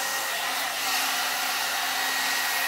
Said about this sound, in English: I love that you can style it different ways with this blow dryer or blowout dryer